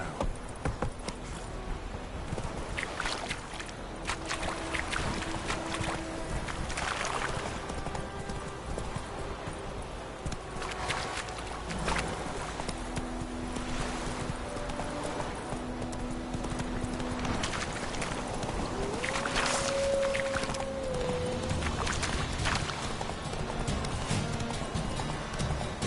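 Roach, Geralt's horse in The Witcher 3, galloping at length, a continuous fast rhythm of hoofbeats over game ambience, with occasional tonal game sounds and a short neigh-like call partway through.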